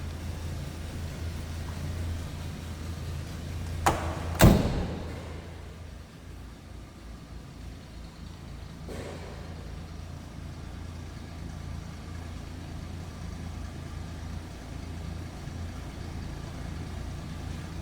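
A 1951 Studebaker Champion sedan with an inline-six L-head engine of about 2.8 liters runs at a steady, smooth idle. The low, even hum is broken early by two sharp knocks and later by a faint tap.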